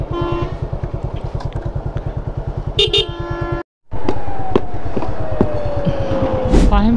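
A motorbike ridden on a busy highway from Chittagong toward Cox's Bazar, its engine pulsing steadily and loud nearby, with car and vehicle horns honking, a brief dropout, then continuous road noise and a rising tone.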